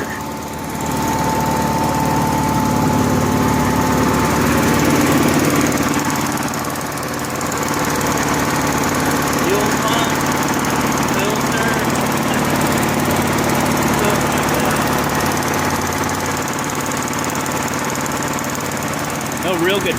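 A Honda gas-powered AEC welder generator with a fuel delivery problem runs with its eco throttle on, giving a loud, close, steady engine drone that holds for the whole stretch with little change.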